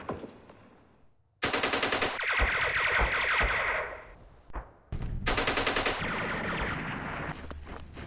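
Units opening fire in the Vietnam war strategy game Campaign Series Vietnam, two loud bursts of rapid machine-gun fire with echoing tails separated by a brief quiet gap, no talking.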